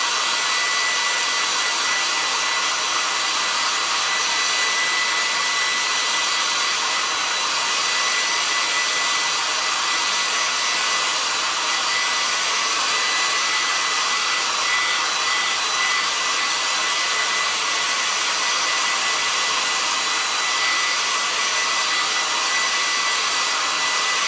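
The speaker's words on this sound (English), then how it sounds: "I have a hair dryer that I'm going to use to help speed up the process" Hair dryer running continuously to dry chalk paint, a steady close, loud airy whoosh with motor whine that holds level throughout with no pauses.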